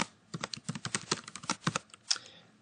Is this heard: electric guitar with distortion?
no